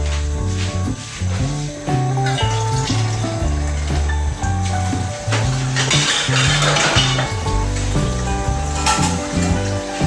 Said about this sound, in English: So now I will be adding a little bit water.